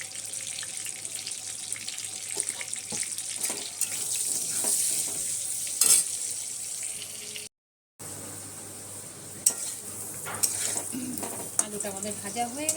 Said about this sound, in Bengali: আলুতে দিয়ে দেবো পরিমাণ মতো একটু নুন আর পরিমাণ মতন একটু হলুদ দিয়ে আলুটা ভেজে নেবো